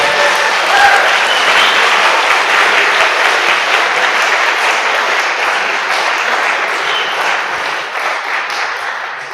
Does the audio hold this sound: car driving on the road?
no